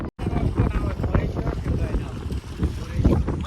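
A small wooden fishing boat, rowed or paddled on the sea off the Malvan coast, moves steadily with continuous engine-like rumble and water wash, heavy wind buffeting the microphone throughout.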